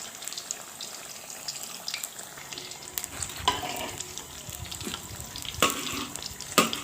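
Fish frying in a pan, a steady close sizzle and crackle with scattered sharper pops and a few louder spatters, no voices.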